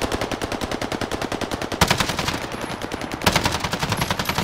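Rapid automatic gunfire in Call of Duty: Modern Warfare, with a loud, close, steady stream of shots in quick rhythmic bursts that continues almost without pause.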